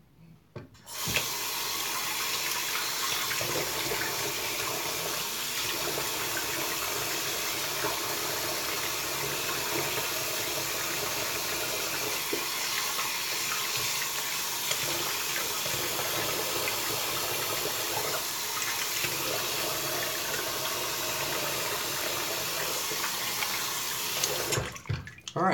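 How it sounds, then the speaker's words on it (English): Tap water runs steadily into a sink for rinsing, a continuous close rush that lasts almost the whole stretch, with a faint low engine-like hum beneath and no talking. "I'm gonna rinse real quick"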